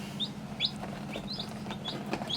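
Baby chicks peep in short, high, repeated chirps while being placed into a basket at a collapsed chicken coop, faint and fairly close, with light rustling underneath.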